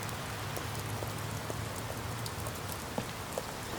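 Heavy rain pours down outside as a dense, steady hiss of drops hitting surfaces, with no breaks and no voices.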